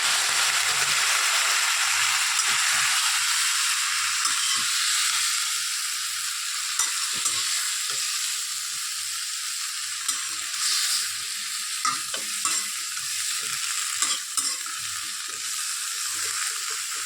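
A pan of drumstick (moringa) curry with green chillies is stirred; an early sizzle fades, leaving quieter frying broken by intermittent scrapes and clinks of a spoon against the pan.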